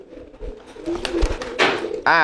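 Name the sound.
racing pigeon cooing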